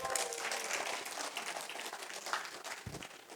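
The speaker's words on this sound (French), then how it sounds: "Est-ce qu'on peut acclamer les seigneurs?" A church congregation applauding, a moderate, fairly distant wash of clapping with a few voices mixed in, continuing steadily.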